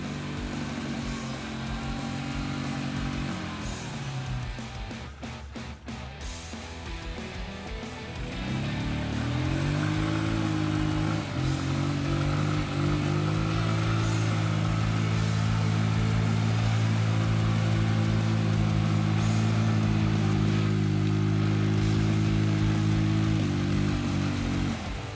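A Loncin 200cc compact ATV quad drives slowly through dirt, its engine puttering at low revs before climbing into a louder, steadier drone that holds for most of the stretch, close by and with no speech.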